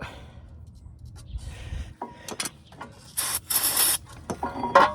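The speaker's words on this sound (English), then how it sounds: "Inside where you're gonna put the grease at, just put some spray in there." Several short hissing bursts of aerosol brake cleaner sprayed on a 2019 Honda Accord Touring's front brakes, loud and close, with faint mechanical clicks between them.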